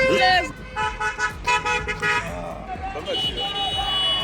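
Car horns honk repeatedly at a roundabout, several overlapping toots of varied pitch, loud and close, with voices and music mixing in among them.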